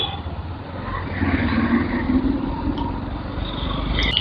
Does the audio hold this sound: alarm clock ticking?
no